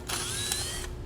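Drill spinning a hole saw through the body panel of a 2007 towed vehicle, a short burst of high whirring and grinding lasting under a second, close and moderately loud with no talk.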